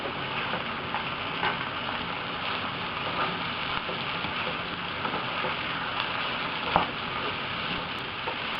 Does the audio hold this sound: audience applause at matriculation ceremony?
no